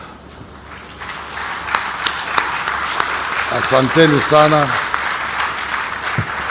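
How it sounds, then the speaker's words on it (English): Audience applause fills a conference hall at an international investment conference in Vipingo Ridge, Kilifi, a steady broad wash of clapping throughout, with a voice speaking briefly over it near the middle. "we give them an applause"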